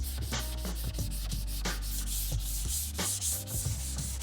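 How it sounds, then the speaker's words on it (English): Glazing putty being hand-sanded on a truck body panel, with close, steady rasping strokes repeating in a quick back-and-forth rhythm and no talking. "Another big plus to the glazing putty, that actually sands really nice."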